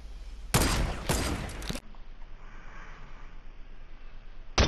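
Gunfire in a Fortnite Battle Royale squad match: a loud, rapid burst of shots lasts just over a second, followed by quieter game ambience and one more sharp shot at the very end.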